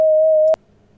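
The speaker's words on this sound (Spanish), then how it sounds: "Acá tenemos una sinusoide" Pure steady synthesizer sine wave tone from the Music Lab sound generator, a single clean held pitch lasting about half a second and cutting off abruptly into near silence.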